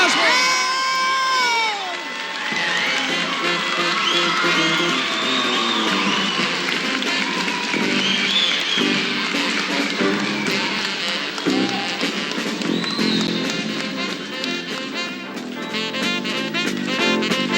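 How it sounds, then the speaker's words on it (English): A telethon audience applauds and cheers for about eighteen seconds, a dense wash of clapping with scattered shouts and whoops, fairly loud and continuous, with a voice speaking briefly at the start. "Nice round of applause."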